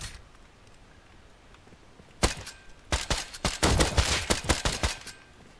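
Suppressed gunfire in the game Rust, a single shot followed after a pause by rapid bursts of muffled, clipped reports at close range, with no talk.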